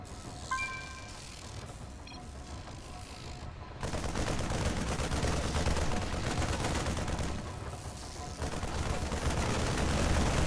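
Gunfire in a StarCraft 2 arcade mode game plays as a dense, sustained rattle of rapid shots, growing louder and more continuous after a quieter opening with faint game tones.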